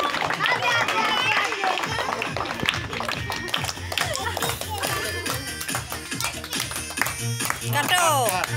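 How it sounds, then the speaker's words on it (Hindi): People clap along at a birthday celebration for Babu, with rhythmic claps repeating steadily beneath lively talk and singing-like voices throughout. "ताली मारी दियो"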